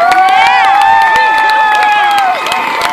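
A crowd of about 200 people cheers at an outdoor high school pep rally on a cold riverwalk, a loud sustained mass of shouting with a prominent high voice and scattered claps, near and continuous.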